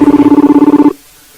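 Ringback tone of an outgoing telephone call, a loud rapid warbling pulse repeating steadily for under a second before cutting off into near silence.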